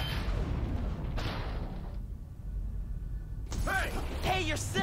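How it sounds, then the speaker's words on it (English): A shack door wrenched off its frame by Miles Morales in Spider-Man: Miles Morales, heard as a creaking, grinding mechanical tear with a few heavy clunks, followed by a brief lull and then voices talking. "Or we could just rip off the door."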